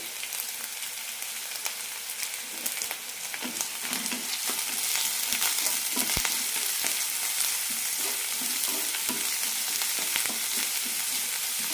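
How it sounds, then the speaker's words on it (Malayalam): Onion, ginger, green chili and curry leaves sauté in hot oil after mustard seeds have popped, for a broken rice upma: a steady, dense sizzle with occasional stirring scrapes, growing slightly louder, with no talking. "സവാള ചെറുതായി ചോക്കുന്നവരെ വഴറ്റിയെടുക്കാം"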